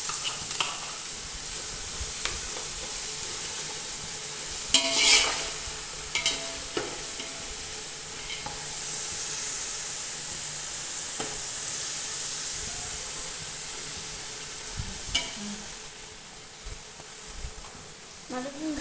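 Ginger garlic paste sizzles steadily in a pan, with occasional sharp scrapes and clatters of a spoon stirring it, loud and close.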